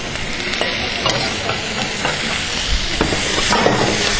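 Snails frying in a pan for a snail and mushroom goulash, a steady close sizzle with scraping and clinking as they are stirred, heard alone.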